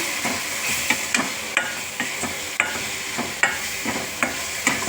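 Spices with coriander powder get stirred in a sizzling frying pan for a garlic gojju, a steady fry hiss broken by repeated scraping strokes of the spoon against the pan, close and alone.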